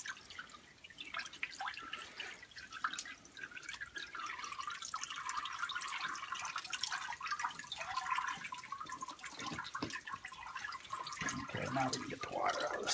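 Water drips steadily and faintly from a thawed cat pelt hanging by a chain, a soft irregular patter that continues without pause.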